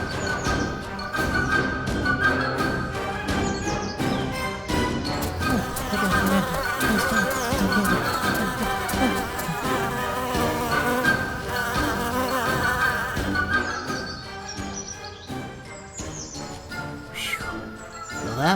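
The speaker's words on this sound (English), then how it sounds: "I was running from a bee that was chasing me" A bee buzzes loudly and continuously as it chases someone, its drone layered with busy cartoon-style music and effects throughout.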